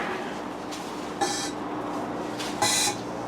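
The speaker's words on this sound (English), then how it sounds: "that hissing noise you just heard was the water blasters going off" Two short bursts of airy hissing spray from water blaster props in a haunted tent display rise briefly above a steady background hum, the second one longer.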